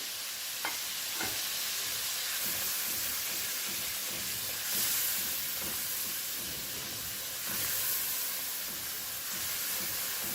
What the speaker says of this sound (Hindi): तो चलिए इसको अच्छे से फ्राई होने देते हैं।